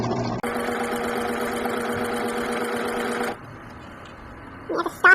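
Sewing machine running steadily for about three seconds as it stitches down the middle of a fitted face mask strap, loud and close, then stopping, with brief handling noises at the end.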